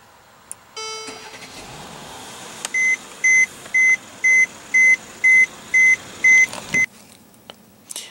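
A 2015 Mercedes-Benz E350 with a 3.5 liter V6 starts with a short crank and catch, then settles into a low hum while a dashboard chime beeps about eight times in an even rhythm.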